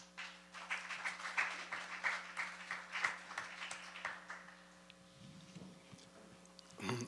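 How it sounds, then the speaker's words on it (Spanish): Small audience at a tribute event clapping to welcome a speaker, sparse, faint claps fading out after a few seconds over a steady hum, followed by a brief rustle. "recibiéndolo con un aplauso, por favor"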